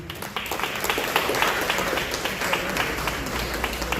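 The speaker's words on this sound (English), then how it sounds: "With a hand of applause, let's acknowledge the presence of Honorable Dr. Koino, MP for Ekunfi." Conference audience at an event in Accra, Ghana, applauding steadily, a dense continuous patter of many hands clapping that holds even in level for about four seconds.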